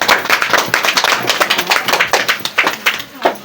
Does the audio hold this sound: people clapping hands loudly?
yes